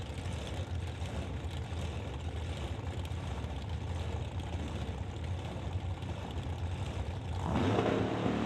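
Two drag cars sit on the line at an old-time drag meet, among them a 1966 Acadian Canso and an orange and purple 1937 coupe. A steady engine rumble swells into a louder, rougher roar as a car launches near the end.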